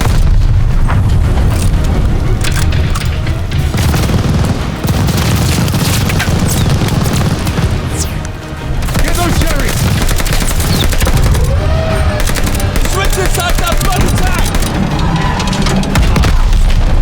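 Dense, loud machine gun fire and booming blasts in Call of Duty Vanguard combat, continuous rapid bursts with heavy explosions filling the whole stretch, alone with no talk.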